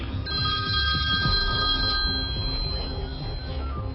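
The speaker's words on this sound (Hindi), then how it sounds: "कुछ देर घंटी बजने के बाद फोन उठाया" A telephone rings continuously, a steady electronic ringing tone held for several seconds with some low background noise, with no talk.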